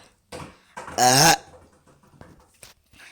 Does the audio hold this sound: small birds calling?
no